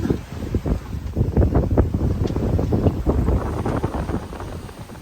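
Wind of roughly 9 to 12 knots buffets a sailboat at sea near Malta around sundown, a loud continuous blustery rumble across the microphone with gusty surges and no voices.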